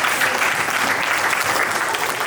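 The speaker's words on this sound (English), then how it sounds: "Give yourself a round of applause." A round of applause from a team of players at a North Alabama Lakers media day, steady dense clapping throughout, loud and close with no voices over it.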